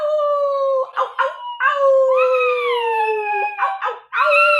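A dog howls loudly and up close in a series of long, wavering, sliding tones broken by short yips, sustained across several seconds.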